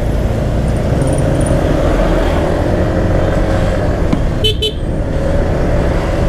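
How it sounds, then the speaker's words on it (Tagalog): Steady road traffic rumbles loudly through a street in Cabanatuan, with a couple of short car horn toots rising above the congestion near the middle, and no voices. "Laging traffic dito."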